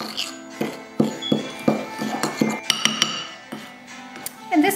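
Utensil clinks and taps against a bowl while flour, cinnamon and butter are mixed into a crumbly topping for a berry coffee cake, in a quick irregular series of close, bright knocks.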